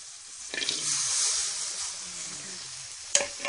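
Lemongrass, kaffir lime leaves and pandan leaves fry in hot oil, the first step in cooking crickets. A steady bright sizzle hisses throughout, with a couple of sharp clatters from stirring.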